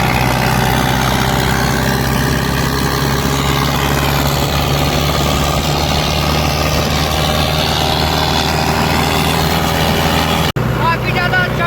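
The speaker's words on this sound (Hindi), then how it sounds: "इसी के साथ ट्रैक्टर फिर से कर दिए हैं स्टार्ट।" Tractor engine on a long-distance road journey, idling and running at a steady, loud, close rumble with someone talking over it, cutting off abruptly near the end.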